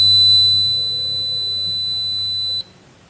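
Multimeter continuity test beep, a single steady high electronic tone held for over two seconds and then cut off abruptly, close and clear with no talking.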